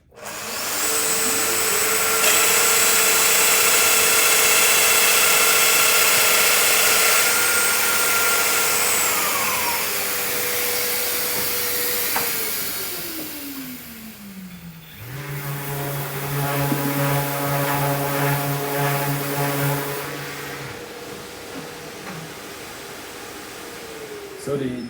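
A Festool power sander works a wooden bench top, loud and steady with a whining drone that shifts pitch, then winds down before a second, buzzier run with vibrating harmonics; voices are faintly present.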